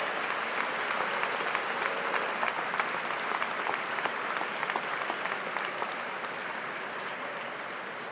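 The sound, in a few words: round of applause from graduates at a commencement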